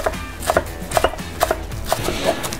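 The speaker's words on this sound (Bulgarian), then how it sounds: "Нарязваме на ситно и пресния лук." A knife finely chopping fresh green onion on a board: quick, evenly spaced taps, about two per second, close and clear, with no talking.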